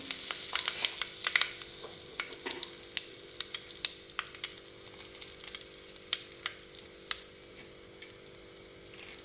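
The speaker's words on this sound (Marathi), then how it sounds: "आपली मोहरी आता छान तडतडते." Mustard seeds crackle in hot oil for a Marathi tempering, a soft continuous sizzle scattered with many sharp little pops and spits, close and fairly quiet, with no talking.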